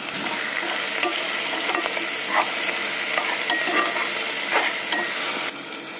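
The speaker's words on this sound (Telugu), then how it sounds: "కొంచెం కరివేపాకు వేస్తున్నాను నేను, ఎక్కువ కాదు" Curry leaves hit a hot frying pan with tomatoes and give a loud, steady sizzle and hiss, close to the pan. Occasional scrapes of stirring break through the frying.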